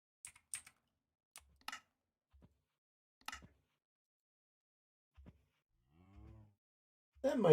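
A single low Minecraft cow moo rises out of near silence, surrounded by sparse soft clicks and game footsteps.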